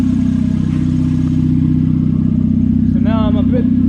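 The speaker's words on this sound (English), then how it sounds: "now it's just revving at 1100, which is alright, which is usually what this car does" A car engine idles steadily at about 1100 rpm after a vacuum leak repair, a loud, even low rumble running throughout, with someone talking over it near the end.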